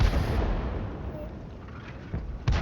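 Booming tank cannon fire in a video game, a heavy rumble that fades, then two sharper shots close together near the end, alongside background game noise.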